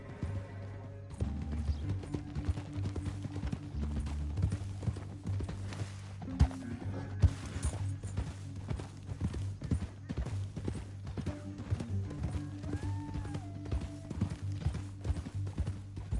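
Horse hooves clip-clopping in a steady rhythm over a low droning music bed, with faint game sound effects around them, in Red Dead Redemption 2.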